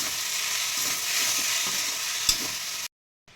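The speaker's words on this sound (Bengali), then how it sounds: "এবারে নেড়ে চেড়ে কিছুক্ষণ ভেজে নেবো" Steady sizzling of spices frying in a pan, with a few scrapes of stirring, then a sudden cut to silence near the end.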